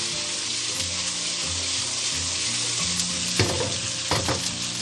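Onion and green and red peppers being stir-fried in hot oil with aromatics in a wok: a loud, steady sizzle with bursts of stirring and spatula scrapes, no talking.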